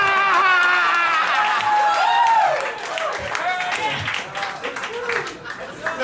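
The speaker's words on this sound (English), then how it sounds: "just like a big laugh and hand clap." Comedy club audience at Cafe Diem laughing, whooping and clapping on cue, a loud burst of overlapping voices and hands that thins out after a couple of seconds into scattered chatter.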